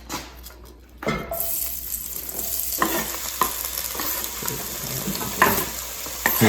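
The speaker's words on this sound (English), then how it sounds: "you can add a teaspoon perhaps of olive oil, followed by the generous amounts of onions" Generous amounts of onions fry in a little olive oil in a pan over medium heat, a close, steady sizzle broken by stirring scrapes and soft clatters.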